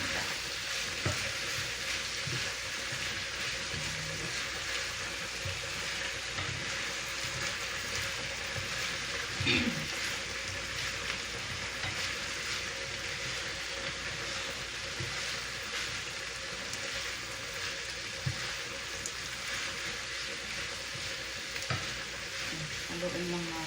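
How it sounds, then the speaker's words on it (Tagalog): Ginisang gulay, a Filipino sautéed vegetable dish, sizzles steadily in a pan while being stirred, with a constant frying hiss throughout and occasional scraping clinks from the stirring. "Haluin lang natin para takpan natin siya ng mga 2 to 3 minutes."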